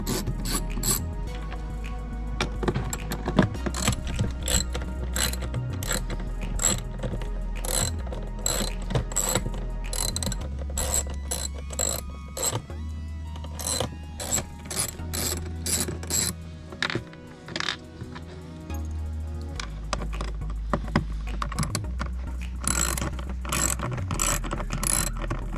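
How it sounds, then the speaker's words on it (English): A ratchet with a T20 bit removes the door handle screws on a BMW 528i, a rapid, close clicking pawl in repeated bursts over a low mechanical hum, with no talk. "I got a T20 and remove 3 screws"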